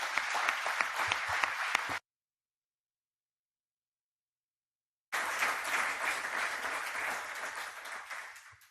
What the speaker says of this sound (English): If you'd join me in giving them a round of applause, I would appreciate that.